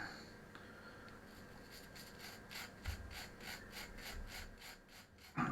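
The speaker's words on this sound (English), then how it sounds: "This won't polish it doing this, but it will remove some of the sort of white powder and verdigris that's on it." Steady rhythmic rubbing strokes scrape white powder and green verdigris off a small metal part in a workshop shed, a quiet repeated back-and-forth rasp building slightly louder toward the end.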